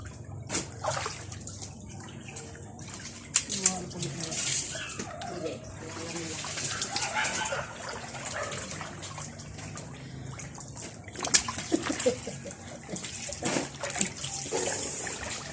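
Water flowing and splashing in a small pool, a washing tub used for swimming, with continuous running-water noise and intermittent splashes close by; voices talk over it at times.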